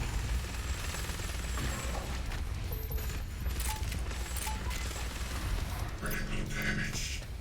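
The BFG 10,000 firing in the video game Doom Eternal, a dense, loud wash of rumbling booms and crackling blasts that rolls on without pause, with a harsher burst of mechanical clatter near the end.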